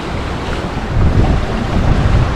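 Strong wind gusting across a sailboat heading northwest along the Galician coast in Spain, funneled by a venturi effect, roaring as steady close buffeting with a swell of louder gusts in the second half and no voices.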